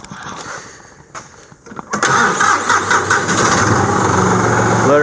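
A John Deere tractor engine cranks over briefly, then catches and settles into a loud, steady nearby idle.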